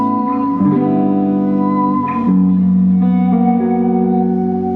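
An electric guitar plays sustained chords through a Fender Super Champ X2 amp's stock speaker, in stereo with a Deluxe Reverb, with lush reverb, notes changing a few times and ringing out.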